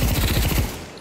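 A rapid burst of automatic gunfire in the WW2 setting of the VR shooter Pavlov, loud and close, with a fast regular rhythm of shots that stops just before the end.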